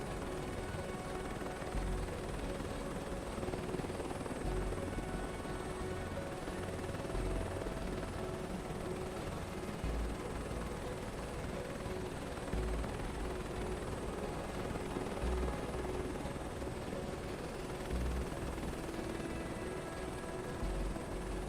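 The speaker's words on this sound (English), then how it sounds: "we are here to see how it reacts to the helicopter now" Helicopter flying over an oil rig in Microsoft Flight Simulator 2024, a steady loud rotor and engine drone holding constant throughout with no voices.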